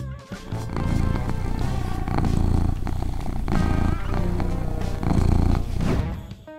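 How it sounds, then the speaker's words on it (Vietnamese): A cat purring close up, a steady rumbling drone that swells and eases in long rhythmic cycles with each breath, loud and continuous with no voices over it. "Mèo kêu rừ rừ vì nhiều lý do khác nhau, nhưng thông thường nhất, mèo làm vậy khi mừng rỡ."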